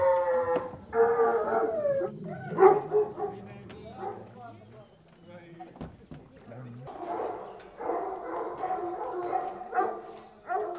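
Pack of hunting hounds from a large hunting estate barking and howling together, a dense overlapping chorus of baying and yelps close by, with a voice talking among them.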